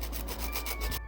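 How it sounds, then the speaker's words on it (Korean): A cut aluminium pipe is sanded by hand with sandpaper while shaping a small part for a 1/24 scale Toyota AE86 Trueno model kit, giving a close, steady rubbing scrape with repeated short strokes. "사포로 갈아 모양을 잡아준 다음"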